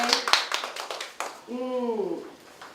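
A few people at an academy admissions information session clap briefly, giving a short run of distinct, fairly close claps. The clapping stops after about a second, and a voice then speaks alone.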